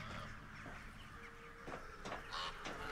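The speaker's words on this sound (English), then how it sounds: "Also, what's up with all the bird noise? Oh, there's a bunch of birds circling overhead." Birds calling in the video game Alone in the Dark, faint squawking cries rising over a steady ambient hum, several short calls in the latter half.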